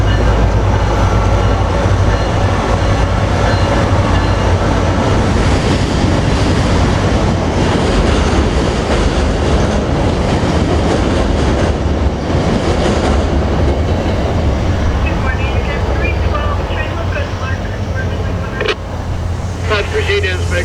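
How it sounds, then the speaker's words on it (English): A SunRail P312 commuter train runs north near the Lake Monroe drawbridge on a rainy day, a loud, close, continuous rumble with rhythmic wheel clatter, heavy low-end roar and a brief squeal near the end. "Sunrail P312 came back north as he was still ahead of the office car train."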